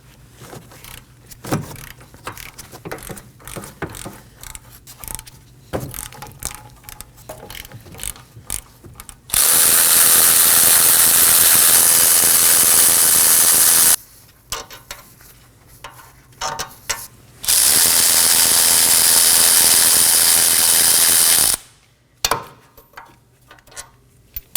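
Two long bursts of loud, buzzing ratchet or impact-tool noise breaking loose four 17mm hub mounting bolts on a 2015-2023 Nissan Maxima, separated by a pause, with softer clanking and mechanical handling before and between.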